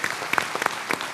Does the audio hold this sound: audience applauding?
yes